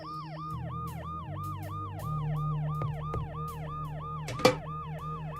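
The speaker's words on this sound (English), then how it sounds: "The noise the ambulance makes will cover the sound of the glass breaking." Wailing two-tone ambulance siren from the video game Dead Synchronicity, sweeping up and down in steady repeating cycles over a low rumbling hum, with a brief sharp crash near the end.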